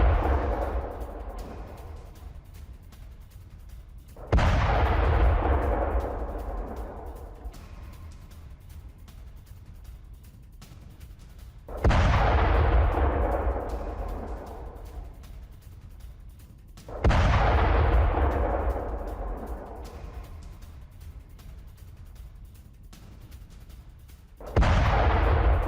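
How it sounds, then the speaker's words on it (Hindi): Missile strikes hit high-rise buildings in Bahrain, with four or five heavy booms a few seconds apart, each rolling out in a long, fading rumble. There is no talk. "बहरीन में ईरान की एयर स्ट्राइक, बहुमंजिला इमारतों से मिसाइलें टकराई हैं।"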